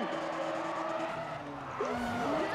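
Car tires squealing through a nitro drift in the racing game Need for Speed ProStreet, a sustained screech with sliding pitch over steady engine roar, close and continuous.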